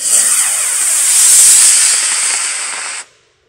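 A homemade rocket of about three pounds launching, a loud, close, steady hissing roar that holds for about three seconds and then cuts off abruptly into silence.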